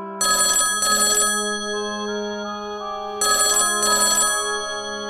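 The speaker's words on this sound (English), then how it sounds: "I had just finished a case and was about to leave when the phone rang." A telephone rings with an electronic ringtone in two double bursts separated by a pause, loud and close with no voices.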